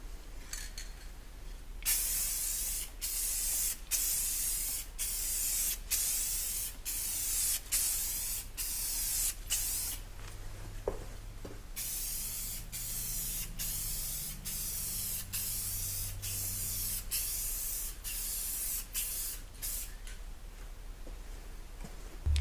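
Repeated bursts of clear coat spray hissing from a can onto car headlights, long steady sprays separated by brief pauses, close and loud throughout.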